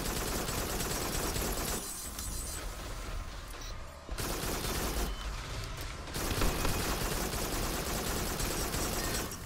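Rapid rocket and weapon fire in the Farpoint VR shooter during a giant robot fight, a dense continuous barrage that drops out briefly twice, loud and close, no talking.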